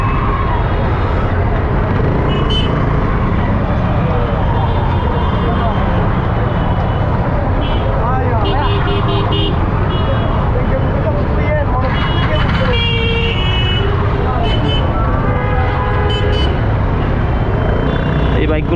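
Dense city traffic jam on a busy road during Eid holiday, with cars, buses and motorcycles idling and rumbling close by, scattered horn toots and engine revs, a constant loud roadway roar under chatter and speech.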